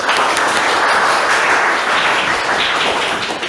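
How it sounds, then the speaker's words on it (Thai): An audience at a live event applauds, dense steady clapping that fills the whole stretch at strong, even loudness before tapering slightly at the end. "ขอเสียงปรบมือด้วยครับ"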